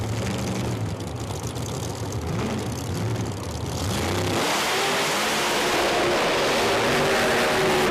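Two Pro Mod drag cars, a 1963 Corvette and a Willys, launch at a British drag racing championship; a roaring engine builds in pitch, then explodes into a louder sustained full-throttle blast that fills the rest of the run.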